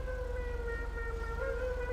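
An emergency vehicle siren wails in a video game, a brief, steady tonal blare heard alone at moderate volume.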